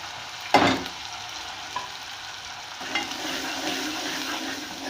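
Onions frying with garlic-ginger paste, chilies, turmeric, coriander and salt for aloo keema, a steady low sizzle with a sharp stirring scrape at the start and softer scrapes later.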